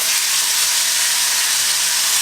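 Curry leaves spit and crackle in hot coconut oil along with mustard seeds and dried red chillies, a loud, dense, steady sizzle held close for a couple of seconds with no voices.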